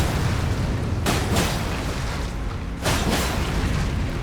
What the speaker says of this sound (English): So the explosion isn't that big of a range.